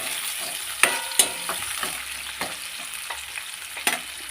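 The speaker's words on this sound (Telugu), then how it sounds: "కొద్ది నిమిషాల పాటు దీన్ని అయితే ఆయిల్లో ఫ్రై చేయాలి ఫ్రెండ్స్." Onions and green chillies fry in hot oil with a soft, continuous sizzle, broken by several sharp crackles and pops as the pan is stirred, heard close and alone.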